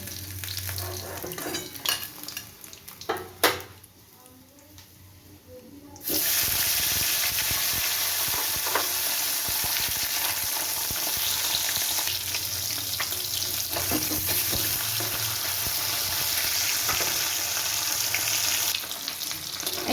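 Parshe fish fry in hot oil, a quiet stretch with a few clinks giving way to a sudden loud, continuous sizzle that holds steady to the end.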